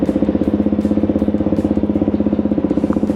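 Suzuki DR-Z 4S dual-sport motorcycle engine running at a steady, loud idle, with an even rapid pulsing thump throughout and no talk.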